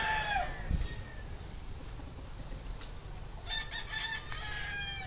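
A rooster crows near the start of a chicken farm clip, followed by other chickens clucking and calling in the background.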